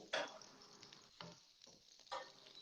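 Onions fry in a pan with a faint, steady sizzle, broken by several soft scraping stirs.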